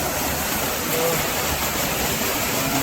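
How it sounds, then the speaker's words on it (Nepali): A fairly large hidden waterfall roars close by, a dense, unbroken wash of falling water that stays steady and loud from start to finish. "अहिलेसम्मको अलि राम्रो झरना, अलि ठुलो झरना भेटिसकेको छ है।"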